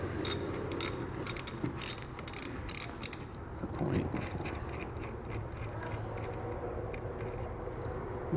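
Quick bursts of ratchet clicking as a battery cable terminal is loosened on a 2017 Chevrolet, several short close runs in the first three seconds, then quieter handling noise.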